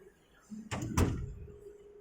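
A coffee machine door swings shut onto its internal micro switch, giving a soft bump and then a firmer double thunk close by in a quiet room.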